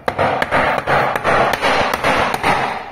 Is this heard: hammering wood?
yes